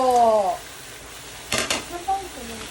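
Bottle gourd (upo) dropped into a hot pan in a home kitchen, giving a sudden burst of close sizzling and stirring clatter that settles into a softer fry, with a brief voice at the start.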